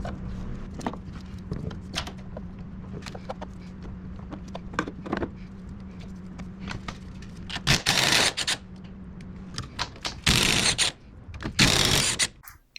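A ratchet with a long extension clicks in quick bursts while loosening strut bolts on a Cadillac Escalade, close-up mechanical ratcheting interrupted by a few louder clanks and handling noises.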